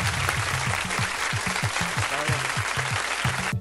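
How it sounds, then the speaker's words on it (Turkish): Dense applause sound effect in a Minecraft minigame claps steadily throughout, loud and continuous, with a rhythmic low thumping beneath, cutting off abruptly. "Bravo. Alkış."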